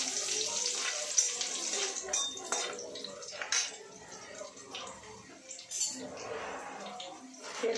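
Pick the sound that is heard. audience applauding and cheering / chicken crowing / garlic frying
garlic frying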